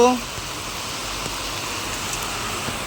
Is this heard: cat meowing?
no